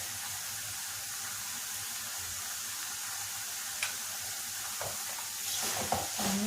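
Carrot halwa with a spoonful of cardamom powder being stirred in a pan, a soft continuous sizzle with a few scraping clinks of the spoon near the end.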